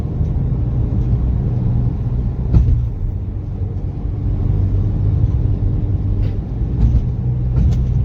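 Audi Q3 2.0 TDI diesel engine, repaired after a knocking fault, idles smoothly with a steady, close, even rumble and a few faint clicks, with no voices.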